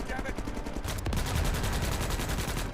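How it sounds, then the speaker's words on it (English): Rapid automatic gunfire from weapons in the video game Helldivers, a dense run of sharp repeated shots with a heavier blast partway through, loud and continuous over about three seconds. "That extends to the weapons too, which all have very distinct noises to them."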